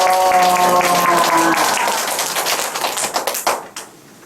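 A church congregation claps together after a sermon's closing thanks, the applause starting amid fading sustained tones and thinning into scattered claps before stopping.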